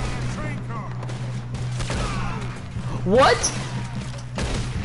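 Gunfire in the video game Red Dead Redemption, a rapid volley of shots under steady game noise, with someone shouting in surprise over it.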